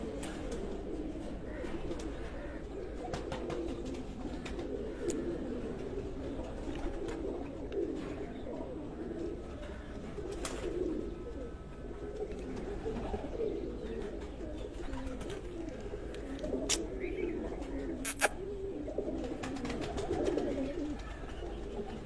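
Several pigeons coo continuously in low, throaty tones, close by, with occasional faint chirps mixed in.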